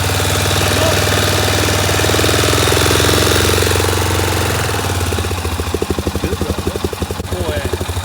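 A 2003 Honda Rincon 650 ATV engine idles close by with a steady, loud putter, its rhythm turning choppier and more uneven in the later seconds.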